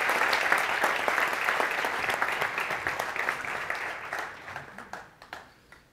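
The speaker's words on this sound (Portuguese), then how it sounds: "Uma salva de palmas aí para essa célula abençoada" Seminar audience gives a round of applause, dense clapping that starts full and steady, then thins out into scattered individual claps and fades away.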